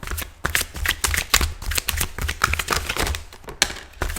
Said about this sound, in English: I start to shuffle these cards